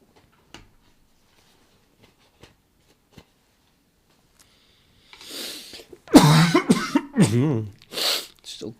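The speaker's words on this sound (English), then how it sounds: "Still coughing." A person coughs and clears their throat close to the mic during a live coding session, a few sharp bursts and rough vocal sounds after scattered faint clicks and taps.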